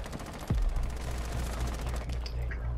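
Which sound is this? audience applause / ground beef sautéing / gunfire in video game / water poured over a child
gunfire in video game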